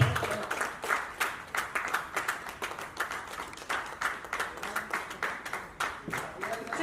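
Audience applause at an International Global Achievers Award 2021 ceremony: a modest crowd claps steadily and fairly close, with sharp, individually audible hand claps in an uneven, pulsing rhythm throughout.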